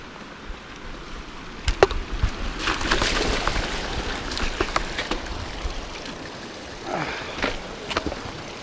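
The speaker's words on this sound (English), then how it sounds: "Had that cool creek crossing." A mountain bike rolls through a creek crossing on a Breckenridge, Colorado trail, with irregular splashes and sloshing water and sharp clunks and knocks from the bike over several seconds.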